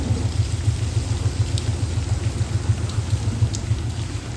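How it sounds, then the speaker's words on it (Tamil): Steady rain falls outside, a dense continuous hiss with a low rumbling undertone and a few faint sharper drips, unbroken throughout with no talking. "வெளியே ஃபுல்லாக மழை பெய்யுது"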